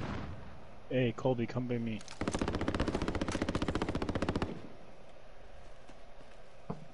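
Rapid automatic gunfire in the Warzone video game, a dense burst of fast shots lasting a couple of seconds, then a single distant shot, with a player calling out briefly just before it.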